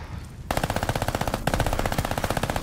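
Armaguerra 43 submachine gun fire in Call of Duty Vanguard, a loud, rapid, even automatic burst that starts after a short quiet lead-in, stutters briefly, then continues firing at a fast steady cadence.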